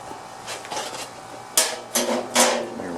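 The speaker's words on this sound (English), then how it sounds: "Dropping screws." Several small metal screws from a lawn mower flywheel repair dropped one after another onto a hard surface, giving three or four sharp, close clinks with brief gaps between them.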